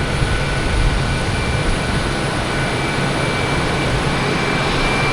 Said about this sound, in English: Next arrives the JetBlue coming in from Orlando.